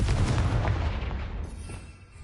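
A Confringo fire blast spell in the Hogwarts Legacy video game erupts as a loud, close burst of booming noise that rumbles and fades over about two seconds, with no talk.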